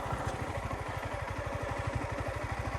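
A motorcycle carrying two riders runs on a rough road with a steady, fast-pulsing engine putter that is loud and close and does not stop.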